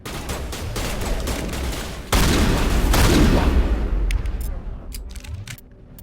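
Shotgun blasts in the video game Mass Effect Legendary Edition: a heavy burst of combat noise, with one loud, broad boom near the middle that slowly fades, and sharp clicks of the action toward the end.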